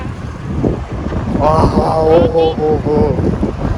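Cold wind blows outdoors, buffeting the microphone in a loud, continuous rush, with a voice talking over the gusts.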